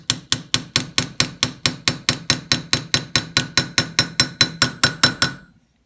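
Hammer taps a pivot pin out of a slipjoint knife: about twenty-two light, evenly spaced metallic strikes in a steady rhythm, close and clear, then the tapping stops.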